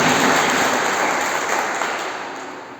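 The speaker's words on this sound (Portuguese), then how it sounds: "Aplauda a palavra de Deus, irmãos." Church congregation clapping hard in unison, a dense steady roar of applause that fills the room, loud at first and easing only slightly over nearly three seconds, with no voices over it.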